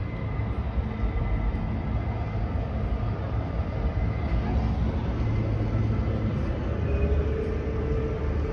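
Rumbling train at a small station in Nashville, Tennessee, a steady low rolling drone with faint tonal hum and muffled background voices throughout.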